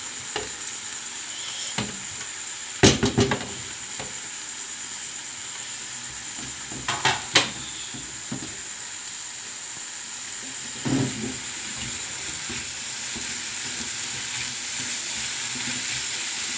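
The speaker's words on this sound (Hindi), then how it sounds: "अभी हम डालेंगे इसमें हरी मिर्चें" Green chilies fry in a hot pan, giving a steady, close sizzle with a few sharper crackling bursts as they hit the oil and are stirred.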